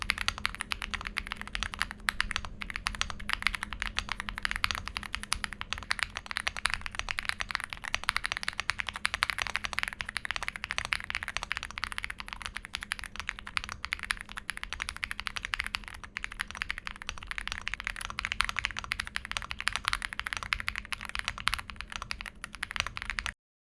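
Steady, fast typing on a mechanical keyboard fitted with polyfill and case modifications, producing a dense clatter of clicky keystrokes that continues unbroken and fairly close for over twenty seconds, with no voices.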